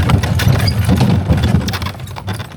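A horse ridden through Ukrainian countryside, its hooves clip-clopping in a steady, close, fairly loud rhythm with no talking over it.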